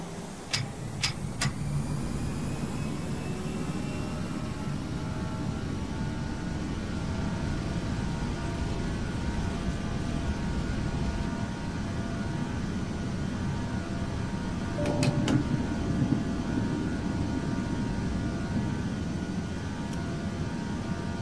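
Simulated aircraft engine roar from a Batik Air flight during takeoff from Yogyakarta in a flight simulator, a steady broadband drone holding throughout with a few brief clicks near the start and middle.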